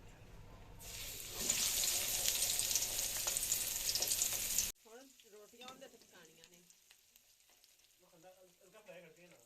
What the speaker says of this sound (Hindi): लो फ्लेम पे हम इसे फ्राई करेंगे